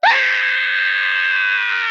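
Several people scream together in one loud, sustained, wavering shriek that starts abruptly and holds for about two seconds, with no other talk.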